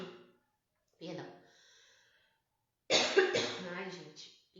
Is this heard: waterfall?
no